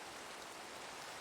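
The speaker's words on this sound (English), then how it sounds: "That will clear the rain." Steady rain falling in the Minecraft video game, a dense even hiss of drops on surfaces with no pauses, soft and continuous with no talk over it.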